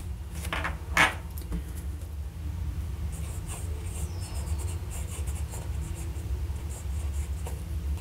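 A Jinhao X750 fountain pen scratches softly across a Rhodia dot pad, a faint continuous scribble with a small tap near the start, sitting over a steady low background hum.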